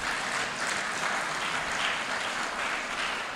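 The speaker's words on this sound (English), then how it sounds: "So let's applaud Pepfar for that." Steady audience applause fills the room at a celebration of twenty years of JCRC collaboration with PEPFAR, a dense, continuous patter of many hands with no voices over it.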